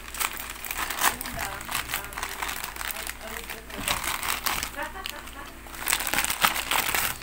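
Plastic packaging of a motorcycle 12V fast charger being torn open, giving continuous close crinkling and crackling with rustling bursts, while someone talks over it.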